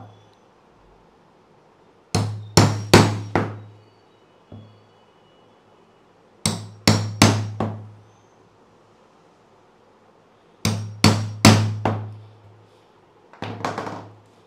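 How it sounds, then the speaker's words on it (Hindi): A centre punch is struck with a hammer to mark screw holes for Ozone concealed 0-crank 95° thick door hinges: four bursts of three or four sharp, close metallic taps, with quiet pauses between them. "इन पर क्या हम सुम्बी मार लेंगे अगर सुम्बी है तो आप ड्रिल भी मार सकते हो पतले वाला"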